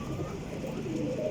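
Pigeons coo in a soft, low, continuous murmur, close by, with a steady bubbling hum and faint background noise throughout; the birds are champion Jeth Wasakh pigeons.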